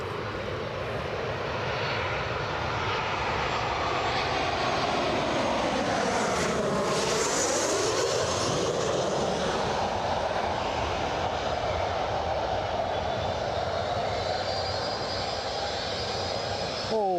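Airplane coming in to land at Newcastle, its engine roar loud and steady with a Doppler-like pitch sweep as it passes close by, the noise sustained throughout.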